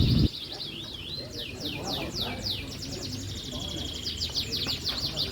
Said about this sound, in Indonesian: Final kenari standar kecil nih Om.